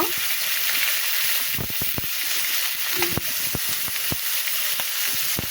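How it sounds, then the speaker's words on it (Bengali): Potatoes and eggplant fry in hot oil with cumin and black cumin, a steady close sizzle with scattered crackles and occasional stirring clicks throughout. "আমি এখানে আলু আর বেগুন দিয়ে দিলাম। আলু আর বেগুন ভাজি করব।"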